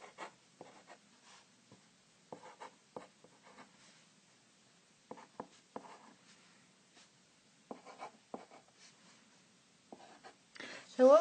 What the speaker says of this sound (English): I'm just going to write these numbers over here on my own paper.